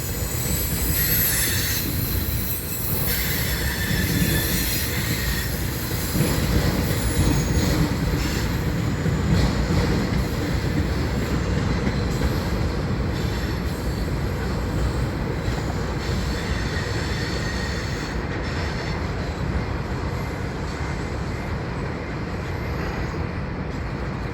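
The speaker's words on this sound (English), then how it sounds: "we'll take a little closer look at this train in a moment" A Union Railroad freight train in Pittsburgh, Pennsylvania, rolls steadily past on the rails, with a continuous heavy rumble and occasional high metallic squeals from the wheels.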